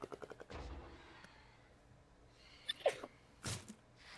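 A single sharp human sneeze bursts out near the end of a quiet stretch, close and brief, following a few faint rapid clicks and taps at the start.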